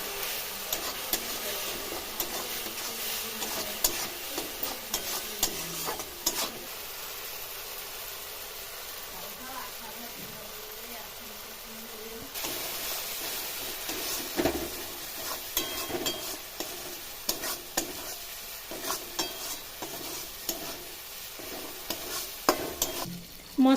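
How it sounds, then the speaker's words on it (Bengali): Cumin powder and chili powder masala being fried and stirred in a pan for village-style pitha filling, a faint sizzle under frequent clattering spatula strokes that grow busier in the second half. "এবার আমি মশলাটাকে ভালো করে কষিয়ে নেবো"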